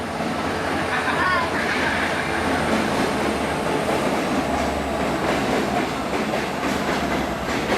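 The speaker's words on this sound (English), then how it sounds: "Hello, train." A train passes nearby, a steady, loud rumble with rail clatter and a faint wheel squeal, continuous for several seconds.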